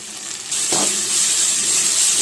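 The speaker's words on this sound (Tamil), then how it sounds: "வெங்காயம் வந்து நல்லா வதக்கிக்கலாம்" Chopped onions hit hot oil in a pan for a ghee rice and vegetable kurma, a loud close sizzle flaring up half a second in and hissing steadily after.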